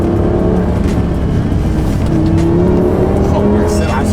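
A Lamborghini Gallardo V10 accelerates hard on a country road with traction control cutting in, its engine note climbing in pitch over loud, close road and wind noise.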